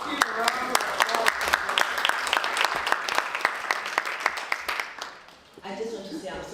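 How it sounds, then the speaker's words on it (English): A conference audience applauds steadily at a sickle cell disease and hemophilia conference, dense clapping that fades near the end as a voice begins speaking. "Let's give a round of applause."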